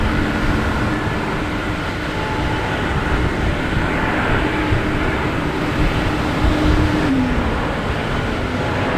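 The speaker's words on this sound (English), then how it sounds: "JetBlue Celtics is on the move. It just left its perch here and it's heading to the runways." A JetBlue airliner taxis toward the runway at Boston Logan Airport, a steady, loud engine roar and rumble holding constant throughout, with no voices.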